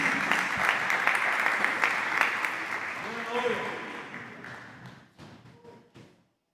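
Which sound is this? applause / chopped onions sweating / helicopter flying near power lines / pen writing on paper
applause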